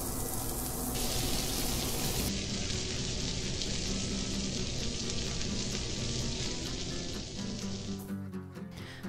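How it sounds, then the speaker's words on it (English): A burger patty on a restaurant grill gives off a loud, continuous broadband sizzle that stays steady and close for the whole stretch, with no voices over it. "You want to hear a nice sizzle when that burger hits the grill"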